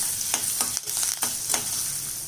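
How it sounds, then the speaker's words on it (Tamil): Peanuts roasting in a pan give a steady sizzling crackle with scattered small pops and the scrape of stirring, close and fairly quiet, with no talk. "இப்போ வேர்க்கடலை வறுபட்டு வெடிக்க ஆரம்பிச்சிச்சு"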